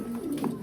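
A pet pigeon coos softly while feeding, a low continuous burbling call heard close by for a brief moment.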